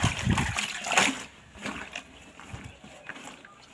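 Water splashes and sloshes as a saree is washed by hand, with a few close, uneven splashes early on and then quieter dribbling and movement.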